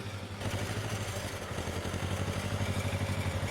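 A T16 tractor engine from a video game, built to handle mud and mountain terrain, runs with a steady, loud, pulsing mid-pitched drone that starts abruptly and holds throughout.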